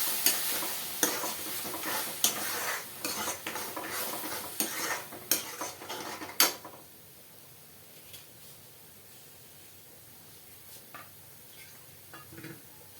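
Onions browned with tomato paste and green chilies sizzle in a pan for Punjabi rajma chawal, with scraping spoon strokes and clinks for about six seconds, then the frying fades to a quiet low simmer with occasional faint clicks.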